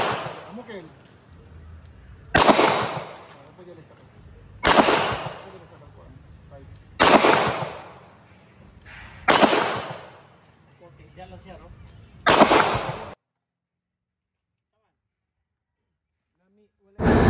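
Five sharp, loud shots from a Springfield Armory 1911 DS Prodigy 5-inch pistol at a firing range, each evenly spaced about two seconds apart with a short decaying tail, followed by silence.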